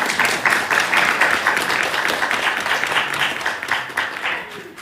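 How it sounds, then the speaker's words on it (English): An audience at a women's coalition candidate event breaks into sustained applause for the candidates, loud at first and then tapering off gradually. "Let's give our candidates a round of applause."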